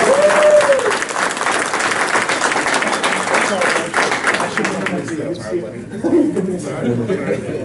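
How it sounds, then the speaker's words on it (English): Loud, dense applause from an audience at a live presentation fills the first several seconds, then thins and fades, with a few chuckles and a voice carrying over it. "Let's give him one more huge round of applause."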